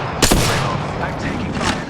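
Gunfire in the Apex Legends video game: a sharp loud shot near the start, followed by a rumbling tail and a fainter second burst toward the end.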